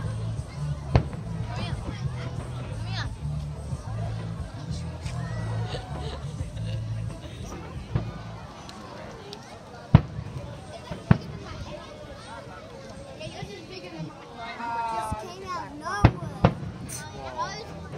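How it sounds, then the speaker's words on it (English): Distant New Year's Eve fireworks pop and bang irregularly, a few sharper cracks standing out, over a murmuring crowd and outdoor background noise. "yes, that was the fireworks"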